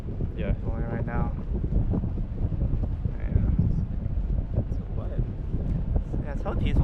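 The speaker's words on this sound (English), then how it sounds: "a bigger difference is probably just like the wind. Yeah. Blowing right now." Strong wind buffeting the microphone at a high outdoor spot, giving a continuous rumbling roar while people talk over it.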